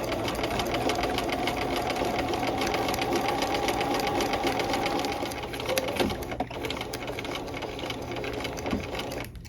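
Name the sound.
sewing machine stitching fabric with long stitch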